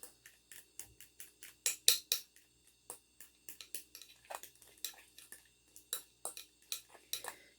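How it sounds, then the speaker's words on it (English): Ingredients are mixed and mashed in a bowl with a utensil, a rapid series of close scraping clicks and taps in an irregular rhythm, quiet and alone. "I'm going to mix all this up, mash it up, blend up really good."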